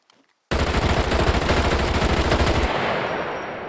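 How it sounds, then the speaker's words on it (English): Rapid automatic gunfire from a scoped rifle in the survival video game Scum bursts in suddenly and loudly, a dense continuous rattle of shots for about two seconds before cutting off into a fading echo. "it's very, very difficult to fire like that"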